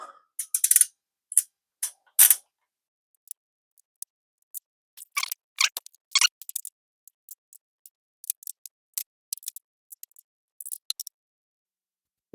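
A torque wrench tightens cylinder head bolts on a Porsche MA1 9A1 engine during a rebuild: sharp, close ratcheting clicks in short, irregular clusters separated by near silence.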